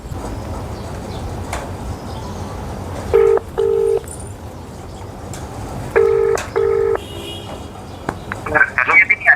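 A phone dials out with short electronic keypad tones in two quick bursts, each a pair of beeps, over quiet room noise, followed by a brief chirpy sound at the end.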